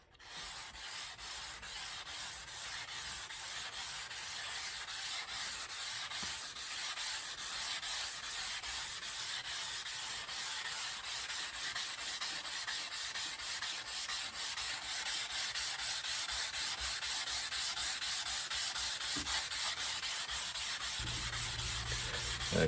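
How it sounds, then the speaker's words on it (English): A pumice stone scrubs surface rust off a 3 ft crosscut saw blade in steady, continuous back-and-forth rasping strokes, close and fairly loud, growing a little stronger toward the end with no voices. "a viewer suggested that for cleaning this, it would be good to use a pumice stone, like you use for cleaning your grill"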